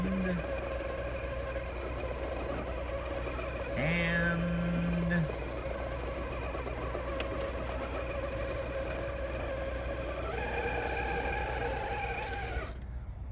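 An RC crawler on fake BFG KM3 1.9-inch tires strains to pull itself over a rocky lip. A steady electric motor whine holds throughout, shifting pitch a couple of times and cutting off near the end, with faint background noise.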